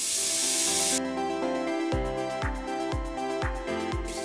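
Qatayef batter poured onto a medium-hot pan starts a broad hiss that gives way to quieter sizzling under a series of sharp, ringing, repeated thuds, with no voices.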